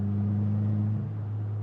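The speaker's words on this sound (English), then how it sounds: "I know my car is pretty loud in the background" A Subaru WRX engine drones close by with a steady, loud low hum that shifts slightly in pitch partway through.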